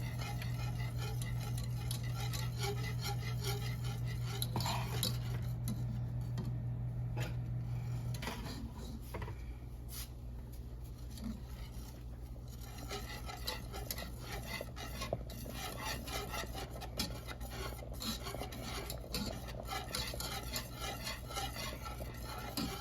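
Cornstarch being stirred into banana pudding sauce in a pot, a spoon scraping and clinking steadily against the metal for the whole stretch, fairly quiet with a low steady hum underneath.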